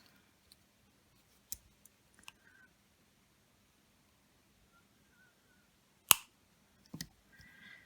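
Jewelry wire trimmed with cutters, a few small, sharp, isolated snips and clicks in a quiet room, close and crisp with silence between them.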